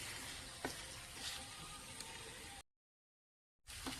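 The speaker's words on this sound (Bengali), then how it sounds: "এখন মশলা বাজিয়ে আমি মাংসটা বাজিয়ে নেই।" Meat being fried with spices in a pot, a steady close sizzle and hiss of frying broken by a short gap of silence, with a few faint stirring clicks.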